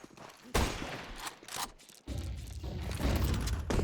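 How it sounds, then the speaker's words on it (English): Scout sniper rifle shots crack in Counter-Strike on Dust2, several sharp loud reports spaced roughly a second apart amid in-game footsteps and mechanical clatter, with no talking. "Scout just ripping off shots."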